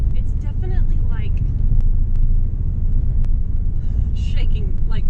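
Low, steady engine rumble and road vibration from a barn-find Nissan 300ZX twin turbo while driving, filling the cabin continuously beneath a voice.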